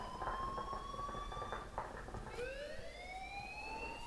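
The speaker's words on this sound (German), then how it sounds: "please turn off that alarm since that's your job" An alarm blares in the Life is Strange video game as a steady electronic siren tone that abruptly switches to rising, wailing sweeps, loud and continuous over a low background hum.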